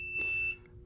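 A fire alarm re-alarm blares during a system test of mechanical horns, a brief loud electronic tone with steady high pitches that cuts off after about half a second, leaving quiet room noise.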